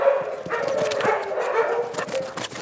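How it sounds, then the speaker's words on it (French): Sled dogs, mostly huskies with some Greenland dogs and Alaskan crosses, whine and yip restlessly at a musher's kennel, a close, continuous chorus of whimpers and short yelps. "J'ai principalement du husky. Après, j'ai quelques chiens du Groenland."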